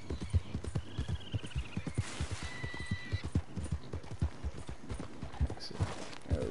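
Horse hooves clip-clop in a steady, brisk rhythm in the video game Red Dead Online, close and clear, with a brief whinny-like tone partway through.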